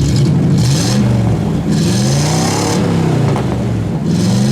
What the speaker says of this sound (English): Go ahead, give it a rev. Rev it up, Dave.